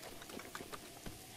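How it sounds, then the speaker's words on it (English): Steady, soft rainfall in Zelda: Breath of the Wild, a continuous hiss with faint scattered drop patters, no thunder, no voices. "we moved past the lightning part and we're on to just regular rain now"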